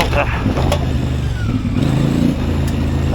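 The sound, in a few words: CF Moto 450MT motorcycle engine on dirt road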